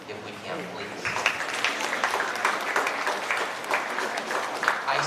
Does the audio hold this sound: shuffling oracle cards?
no